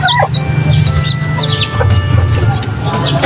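Chinese Silkie chickens clucking and chattering up close, several short clucks and calls over a steady low background hum, with no talking.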